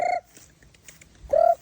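Farm poultry calls, meant as ducks, ring out in two loud nasal squawks separated by a short quiet gap, with faint background rustle between them.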